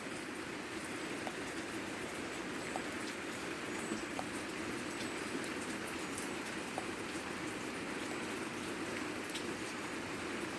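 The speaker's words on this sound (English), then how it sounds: "it's heavy rain right now" Heavy rain pours steadily during a thunderstorm with high winds in southeastern Pennsylvania, a dense, constant hiss with scattered drip ticks and no break across the whole stretch.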